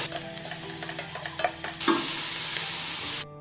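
Ginger garlic paste hits a hot pan for a mushroom pulav and fries with a sharp sizzle, while a spoon stirs and taps against the pan, the hiss swelling midway before cutting off abruptly.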